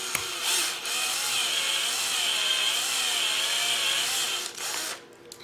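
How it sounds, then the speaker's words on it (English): A power drill bores a hole for a switch in wood, giving a steady, loud whine that holds for about four seconds before easing off, with no talk. "what I'm going to do is drill out for my switch"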